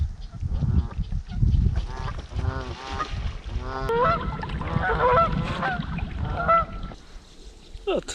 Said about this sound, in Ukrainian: тут на морі живуть качки